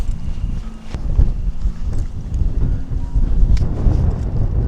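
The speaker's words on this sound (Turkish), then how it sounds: "Şu rüzgara bak ya, hiç durmuyor." Strong wind at a lakeside campsite buffets the microphone in a steady, heavy low roar with gusty surges throughout.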